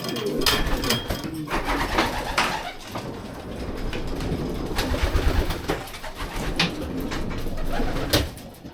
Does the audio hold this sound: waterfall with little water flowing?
no